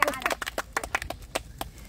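Scattered hand claps from a small group for a second-place finisher in a modelling likes contest, uneven and close, with a voice briefly over the start.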